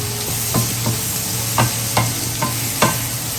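Paneer chilli stirred and mixed in a frying pan, with a spatula scraping in about seven rhythmic strokes over a continuous low sizzle, close and clear, without talking.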